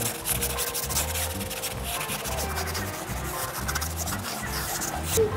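A pad rubs water-based tire shine dressing onto a car tire during a self car wash, a steady, repeated scrubbing rasp in close rhythmic strokes with no talking.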